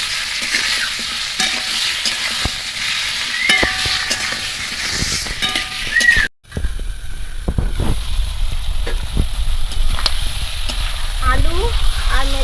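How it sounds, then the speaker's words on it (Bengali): Potatoes with chicken liver and stomach fry lightly in a pan with a steady close sizzle, broken by stirring scrapes and a brief pause midway before the frying noise resumes. "আলুর সঙ্গে এগুলো একটু হালকা করে ভেজে নেব"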